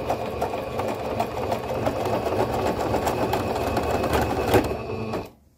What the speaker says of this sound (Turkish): Yine düğmelerimizi şuradaki Singer Brilliance 6160 düğme dikme aparatı yardımıyla dikeceğiz.